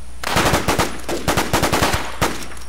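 Automatic gunfire in the survival shooter The War Z, with loud, close rapid bursts of shots separated by short pauses and a final single shot.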